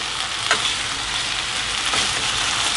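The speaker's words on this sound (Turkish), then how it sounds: "bu aşamada şöyle soya sosu döküyoruz" Soy sauce is poured onto noodles frying in a pan, and a steady, close hiss of sizzling fills the whole stretch with a couple of brief louder spatters.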